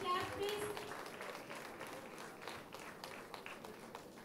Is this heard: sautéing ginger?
no